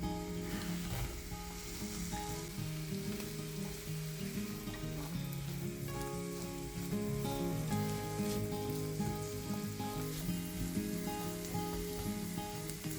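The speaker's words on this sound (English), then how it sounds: "Fry the onion." Onion frying in a pan sizzles steadily and evenly throughout, a close, continuous crackle with soft stirring and light music playing underneath.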